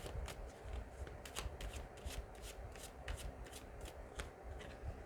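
Tarot cards are shuffled by hand to draw one more card for a love reading. Quiet, close, continuous riffling and tapping runs throughout with no voice.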